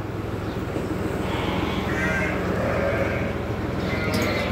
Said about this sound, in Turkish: Burası küçük kuzu var.